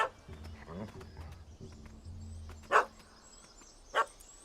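A dog in The Witcher 3 barks at a cat up a tree, two sharp barks at mid-distance over low game ambience and a speaking voice.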